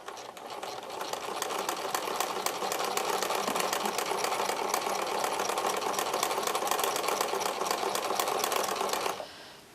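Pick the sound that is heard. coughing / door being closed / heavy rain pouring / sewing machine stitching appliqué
sewing machine stitching appliqué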